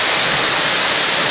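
Floodwater rushes through a street in Itaquiraí, a loud, steady broadband roar of flowing water close by with no break and no voices.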